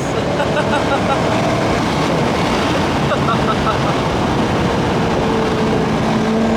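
A Chevrolet C5 Corvette V8 roaring at speed, a loud continuous dense engine and road rush that holds steady throughout.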